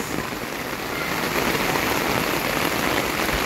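Heavy rain pours down in a dense, unbroken hiss of drops hitting surfaces, loud and steady throughout.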